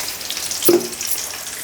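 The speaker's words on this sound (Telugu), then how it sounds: "ఆనియన్స్ వేపుతానా." Onions and ginger hit hot oil in a pan for biryani, giving a short burst of sizzling with a bright crackle that quickly settles into a soft frying hiss.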